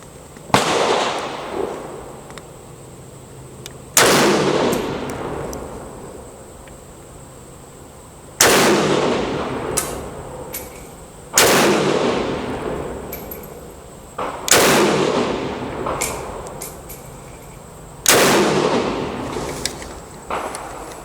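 A 1994 Ruger Mini-30 rifle fires Tula ammunition, five sharp, loud cracks spaced a few seconds apart, each trailing into a brief echo over quiet outdoor background.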